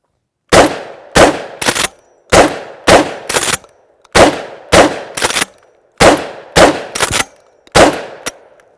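A DP-12 double-barreled pump shotgun fires eleven loud, sharp blasts, mostly in quick pairs and triplets separated by short pauses, each with a ringing outdoor decay and the clack of the pump action between shots.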